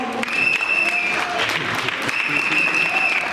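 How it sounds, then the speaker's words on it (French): Wedding guests applauding at a reception, a continuous loud wash of clapping from a crowd, steady throughout with a high electronic tone running beneath. "Sous vos applaudissements."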